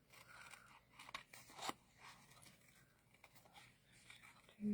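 Scissors trim larger paper craft pieces in a few short, quiet snips and crunches. The cuts come close and soft, with brief pauses between them.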